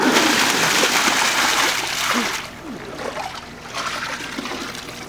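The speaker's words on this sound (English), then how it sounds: "Alright, just dunk your head in it then, I guess." A head dunked into a container of water makes heavy splashing and sloshing, loud and churning for a couple of seconds, then drops back to quieter trickling and dripping with more splashes toward the end.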